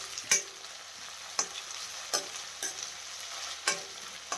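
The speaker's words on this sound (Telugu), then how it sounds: "అల్లం వెల్లుల్లి పేస్ట్ వేసుకున్నాక దీని పచ్చి వాసన అంతా పోయే వరకు బాగా ఫ్రై చేసుకోవాలి." Ginger garlic paste frying in a pan for jeera rice, a steady close hiss with several distinct spatula scrapes and taps at irregular intervals, no speech.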